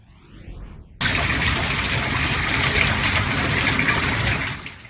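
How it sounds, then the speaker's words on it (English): Floodwater rushes over a road near 16th Street and Baseline during heavy rain, starting abruptly after a quiet second as a loud, steady roaring gush that holds until near the end. "this road near 16th Street and Baseline looks more like a river"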